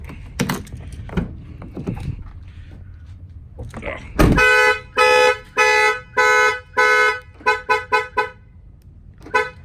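A truck's car alarm trips when the door is opened: a few soft clicks and knocks, then a loud horn toot followed by a run of rhythmic, evenly spaced honks blaring up close.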